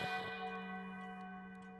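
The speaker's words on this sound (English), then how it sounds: "Another gong passes through the house." A gong chiming midnight through a house rings out as a single struck tone with a sustained, shimmering ring that slowly decays, heard clearly and alone.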